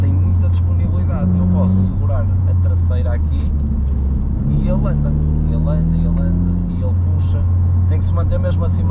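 A Toyota GR Yaris engine droning loudly from inside the car while driving, a steady low rumble with rising pitch as revs climb, under continuous speech.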